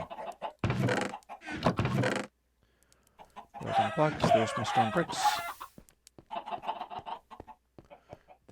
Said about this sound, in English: The machine, meanwhile, is still producing more chicken for us.